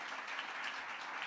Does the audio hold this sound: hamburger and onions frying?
no